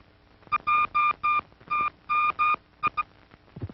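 A telephone line cross-ringing fault: a series of short electronic ringing bursts in irregular groups, loud and tonal, followed by a brief muffled voice at the end.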